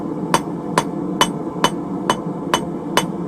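A hand hammer forges a bevel into steel for a split cross, striking seven loud, evenly spaced metallic blows about half a second apart, with no talking.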